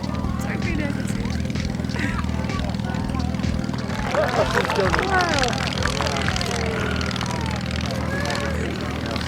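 Propeller aeroplane taking off on soft ground at a Shuttleworth airshow, a steady droning engine throughout, growing louder and rougher in the second half, with crowd chatter and a commentator talking over it.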